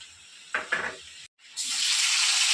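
Tomatoes dropped into a hot pan for soybean khichuri, a sudden broad sizzle bursting up after a brief pause and holding steady and loud, following a few short clatters.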